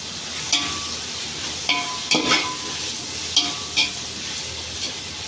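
Onions and tomatoes sauté with turmeric powder for chicken biryani, giving a steady close sizzle broken by a handful of sharp spoon clinks and scrapes against the pan, with no voices.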